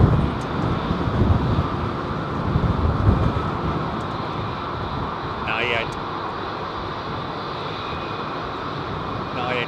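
An Icelandair Boeing 757-300 at Heathrow gives a steady, loud jet roar that fills the whole clip, with a brief higher whine near the middle, and wind buffets the microphone throughout.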